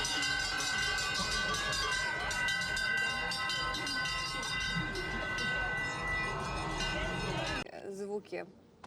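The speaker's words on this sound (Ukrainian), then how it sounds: "не дзвіночки, а такі дзвони, знаєш, як церковні, вони дійсно дуже гучні" Large, loud church-like bells ring continuously at Adelboden, with dense metallic clanging and overlapping tones near the listener. They cut off abruptly near the end, where a voice speaks briefly.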